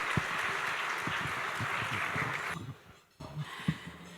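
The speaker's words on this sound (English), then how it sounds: "Can we give him another round of applause" Applause from a gala dinner audience, steady and broad for a couple of seconds, then fading out into scattered room noise with a few low knocks.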